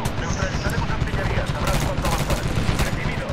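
Dense bursts of gunfire from the video game Medal of Honor, a continuous loud fusillade of rapid shots and explosions with a voice speaking under the din.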